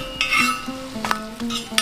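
Utensils clink and scrape against a pan while parathas fry for a chilli chicken meal cooked outdoors in a village jungle, a brief run of close metallic taps and stirring with no voices.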